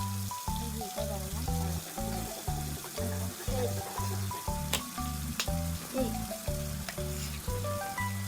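Ghee sizzles in a hot pan, a soft crackling hiss under a recurring rhythmic low hum and a few faint clinks, close by and moderately quiet.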